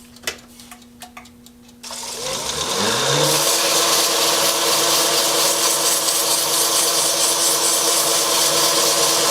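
A few light clicks, then a lathe motor spins up in reverse and settles into a loud, steady whir as sandpaper hisses against a turning cherry wood box.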